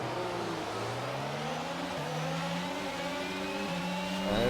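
Several Formula 1 race cars in the F1 22 video game launch from the grid at the American Grand Prix in Austin, a dense layered whine of high-revving engines climbing through gear changes, loud and steady with no talk.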